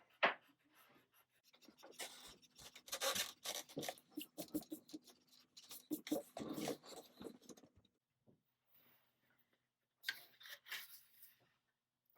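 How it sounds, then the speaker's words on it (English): A pencil line being erased on paper, heard as quiet, close, rapid rubbing strokes in bursts with short pauses between them. "I'm just going to erase this line so I can see what it looks like"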